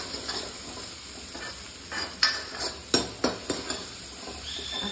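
Spices for paneer bhurji sizzle in a pan as a spoon stirs them, a soft fry hiss under several sharp metallic scrapes and taps against the pan near the end, with no talking.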